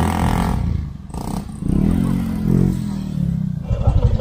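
A motorcycle engine straining under load, a loud, close rumble that surges and drops as it labors, with clattering mechanical noise and brief dips between revs.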